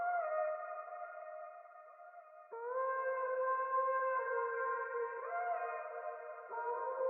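A synthesized vocal sample from the Windstorm preset in Arcade plays alone as sustained, airy sung tones that step between a few held pitches, quiet and clean with a soft echoing tail.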